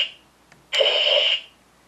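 Pressing the left key of a Power Rangers Legacy Dragon Dagger toy yields a faint click and then a steady, buzzy electronic alarm-like tone lasting under a second, close and alone.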